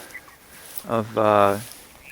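Two short honking calls from meat chickens, close by, with quiet background between them; the second call is longer and louder.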